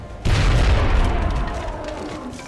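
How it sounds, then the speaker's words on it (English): A grenade explosion in the video game XCOM: Enemy Unknown, a single loud boom that bursts in sharply after a brief quiet moment, then rolls on as a long rumbling, crackling decay that slowly fades away. "Grenade out."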